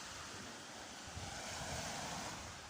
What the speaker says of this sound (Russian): Смотрите, какое хрустальное море